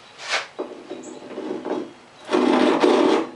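A Vaughan pull saw cuts wood on the rip side with close, rasping strokes: one quick stroke, a longer scraping pass, then a louder, sustained rasp near the end.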